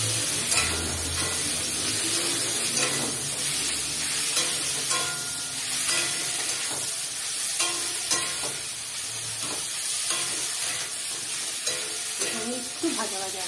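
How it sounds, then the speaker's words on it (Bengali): Half-boiled chicken sizzles and fries over high flame in a pan while it is stirred, with a steady crackling hiss and the scrape of a spatula stirring throughout. "এই যে চিকেনগুলো ভাজা ভাজা হয়ে গেছে, হাই ফ্লেমে ভাজা ভাজা হয়ে গেছে।"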